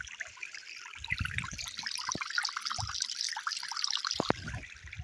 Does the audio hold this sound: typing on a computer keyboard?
no